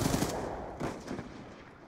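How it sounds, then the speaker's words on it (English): Rapid automatic gunfire from the video game Black Ops 2 rattles in a dense, loud burst, with a second volley shortly after, no talk over it. "I hear gunfire."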